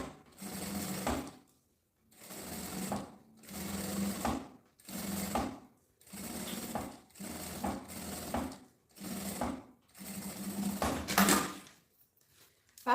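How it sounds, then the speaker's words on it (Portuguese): A sewing machine stitches a seam along the edge of fabric in bursts of steady whirring, about eight separate runs with short pauses between them, close and fairly quiet. "E uma costurinha em volta. Essa costurinha para segurar o tecido é bem na beiradinha"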